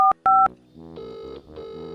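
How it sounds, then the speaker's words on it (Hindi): A phone keypad dials a number: two short loud dual-tone beeps, then two longer ringback-style tone bursts, heard alone with no talk. "अभी मिस्टी का बाबा को फोन लगाती हूँ।"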